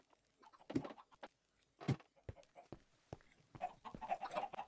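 Chickens in the video game Minecraft give scattered clucks, several short bursts spread unevenly, fairly near and clear, with shuffling, clicking game sounds between them.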